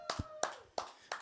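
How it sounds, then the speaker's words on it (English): A handful of separate hand claps, four sharp slaps spaced about a third of a second apart, close and fairly quiet, welcoming a gospel performer to an online lockdown live show. "Give a virtual round of applause"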